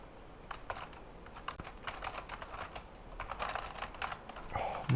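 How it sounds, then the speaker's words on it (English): Typing on a computer keyboard: a quick, uneven run of close clicking keystrokes that continues steadily and grows slightly busier toward the end. "Oh, my typing."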